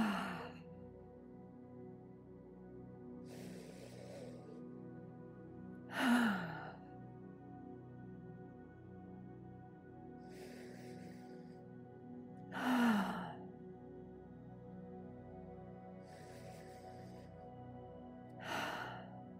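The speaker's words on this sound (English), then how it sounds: "take here some cleansing breaths, breathing in through the nose" Slow cleansing breaths during a qigong session: inhales through the nose and audible exhales through the mouth recur every few seconds, with three stronger sighing outbreaths standing out, all close and soft against a quiet room.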